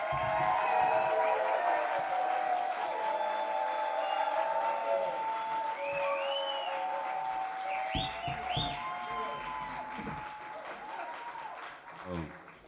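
Sustained audience applause at an album release event, a dense wash of clapping filling the room, with scattered whoops and cheers rising above it and tapering near the end.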